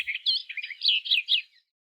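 Birds chirping as a sound effect in a children's read-aloud story, a quick run of bright, high tweets in several short bursts over about a second and a half, clear and close, then silence.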